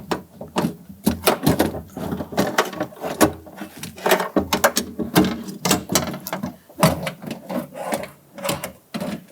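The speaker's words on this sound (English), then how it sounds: "Let's go ahead and feed our regulator up into the door." Metal parts clank, scrape and rattle irregularly as a power window regulator is worked into a front door of a 1999-2004 Jeep Grand Cherokee, with frequent sharp knocks up close.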